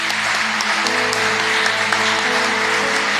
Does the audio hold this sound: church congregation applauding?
yes